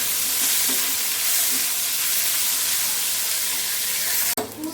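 Boiled figs and potatoes frying in hot oil with whole cumin give a loud, steady sizzle throughout, with a sharp clatter near the end.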